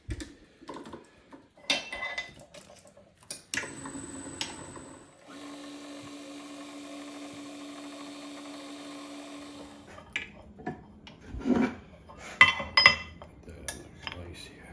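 Intermittent clicks and metallic taps, then a steady whirring drill motor for several seconds, followed by more sharp clinks and scraping of a small tap threading a hole in an engine part.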